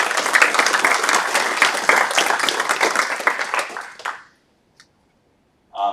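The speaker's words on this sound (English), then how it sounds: "So big round of applause to yourself." Audience at a climate hackathon kickoff claps in a dense, lively burst for about four seconds before it dies away into near silence, with one brief faint noise afterwards.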